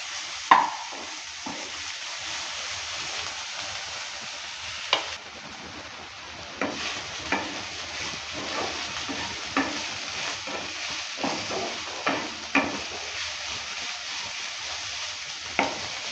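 Dheki shak greens with pointed gourd fry quietly in a pan, a soft steady sizzle broken by intermittent scrapes and taps of a spatula stirring, with no talking.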